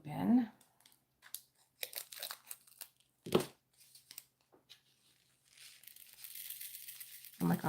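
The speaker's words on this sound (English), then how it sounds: "Let me cut this side open." A Diamond Art Club canvas package is cut open by hand, giving scattered crinkling plastic and short snipping sounds close by, with a louder snip midway and rustling that settles into steady crinkle toward the end.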